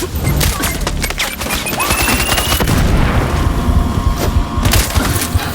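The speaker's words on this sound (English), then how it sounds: "Someone's shooting us!" Gunfire erupts in the video game Sniper Ghost Warrior Contracts 2: loud, rapid shots and sharp impacts crack one after another, with splintering debris and booming hits mixed into a dense, chaotic barrage.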